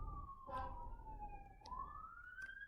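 A police siren wails outside, a single rising and falling tone that is distant and faint, steady throughout with a low hum behind it.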